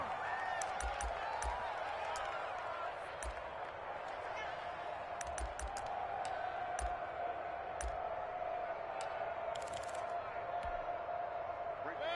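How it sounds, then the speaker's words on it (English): Stadium crowd in a PS4 American football video game, a steady broad roar filling the background, dotted with sharp clicks and thumps, under ongoing commentary. "The crowd may be losing just a little bit of the edge after back-to-back punts."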